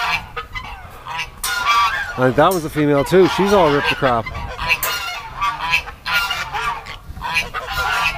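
A goose honks repeatedly in loud nasal bursts, overlapping with someone talking nearby.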